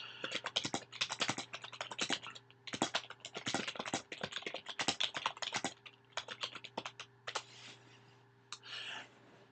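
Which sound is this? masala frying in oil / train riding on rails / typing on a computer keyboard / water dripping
typing on a computer keyboard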